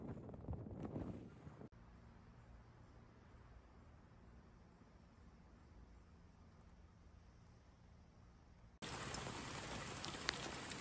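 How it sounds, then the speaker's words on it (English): Steady, soft rain patter and hiss fills the whole stretch, with brief louder wind-like rushes at the start and end. "It's raining"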